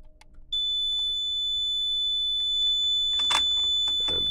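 A System Sensor i3 smoke detector, sounding during a fire alarm system test, gives a steady, piercing high-pitched alarm tone that starts abruptly and holds continuously, with a few faint clicks and handling noises in the room.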